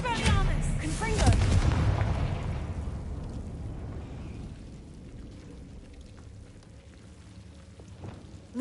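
Blasting-spell explosion in a magic school video game, a loud burst at the start with crackling debris that rumbles off over several seconds, while a voice calls out spells.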